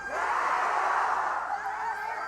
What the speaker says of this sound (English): Gonna let the Gyos go a bit crazy for a while because you know that crowd is so excited.